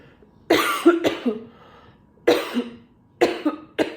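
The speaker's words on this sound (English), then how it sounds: "I wish I could do this without coughing" Several harsh coughs up close, in short bursts: one double cough, a pause, then a few more spaced coughs.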